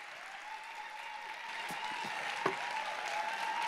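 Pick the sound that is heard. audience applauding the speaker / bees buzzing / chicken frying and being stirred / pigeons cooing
audience applauding the speaker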